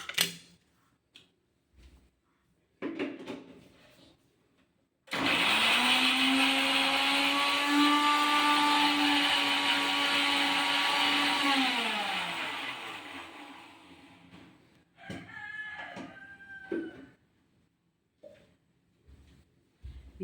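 A mixer grinder starts after a few handling clicks and runs loud and whining for about seven seconds, then winds down, followed by rattling and lid noises.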